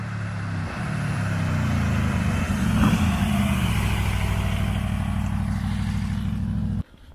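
An Aprilia RSV4 1100 Factory motorcycle with a V4 engine starts up and revs loudly and close, holding a rough, throbbing roar for several seconds before cutting off abruptly.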